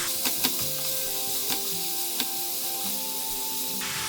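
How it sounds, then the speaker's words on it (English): Finely chopped courgette and parsley stalks sizzle in a pan with a continuous soft hiss, punctuated by a few faint clicks and taps of stirring, with no one talking. "Then I'm now adding a large courgette that I've chopped quite finely."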